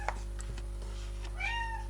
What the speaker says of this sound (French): Bon, bah maintenant c'est le chat.